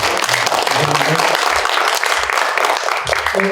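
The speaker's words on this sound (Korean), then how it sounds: "교수님 큰 박수 한번 주시죠." An audience at a lecture forum on basic income applauds a university economics professor, with loud, full clapping and a voice cutting in briefly several times.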